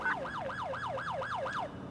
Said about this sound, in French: On va couper la sirène.